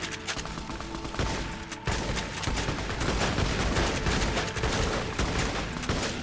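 Gunfire in the video game Fallout New Vegas crackles in dense, rapid bursts of shots at moderate loudness, with no talk.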